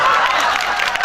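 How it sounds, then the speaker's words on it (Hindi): Audience applause at a live evening devotional music program held for cow welfare in Seenwa, Ladnun, a dense steady wash of clapping from a crowd, fairly loud throughout with no voice standing out. "एक बार ताली बजाओ"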